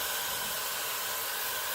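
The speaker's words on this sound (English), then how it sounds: "I really love this hair dryer because, like, if you don't want heat to go through your hair and damage it, you could like just use this" A Dyson Supersonic hair dryer runs on its cool setting, giving a steady, close, even whoosh of airflow that stays constant throughout with no talking.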